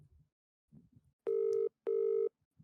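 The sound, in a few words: telephone dial tone during call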